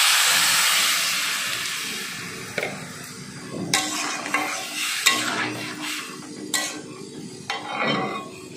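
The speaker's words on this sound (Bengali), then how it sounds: "এবার আমি জল ঢেলে দিচ্ছি" Water poured into a hot pan of red lentils and vegetables sets off a loud hiss and sizzle that gradually fades, followed by clanks and stirring knocks of a utensil against the pan.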